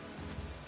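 Rain falls on city streets in The Witcher 3: Wild Hunt, a faint, steady patter of drops with a soft low rumble beneath and no voices.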